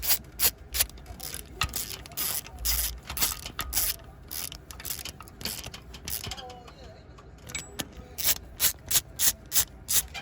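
Wrench or ratchet tightening water pump bolts on a 2009 Dodge Charger 2.7 engine, a series of short rhythmic clicking and scraping strokes, close and fairly loud, with quiet speech in the background.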